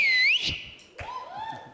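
A person whistles for a performer at a comedy stage show: a loud, sharp whistle at the start, then a softer rising whistle.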